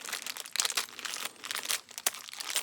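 A plastic bag of winch hardware for a Moto Alliance Viper V2 4500 winch is handled up close, crinkling and rustling continuously with sharp crackles and small clinks.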